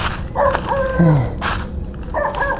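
A dog at an abandoned sugar factory in Canlubang gives a few short, yelping barks and whines in quick succession over a noisy outdoor background.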